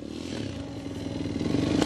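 A motorcycle engine runs loud and close, building in a rising rev with a rapid pulsing rattle toward the end of the short burst.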